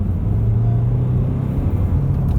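A 2016 Honda CR-V SE Plus SUV engine, rated at 120 horsepower, pulls hard through first and second gear, a loud continuous close-up rumble with a rising drone as the car accelerates.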